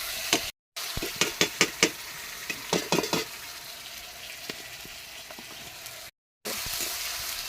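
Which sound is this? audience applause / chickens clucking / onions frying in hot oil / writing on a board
onions frying in hot oil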